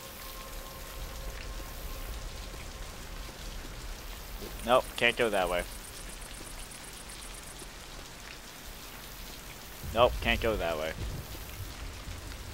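Steady rain hisses continuously across the whole stretch, a dense even patter, while a voice speaks twice briefly over it; rain in Left 4 Dead 2.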